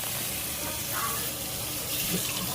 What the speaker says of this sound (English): I'm just running some cool water over it.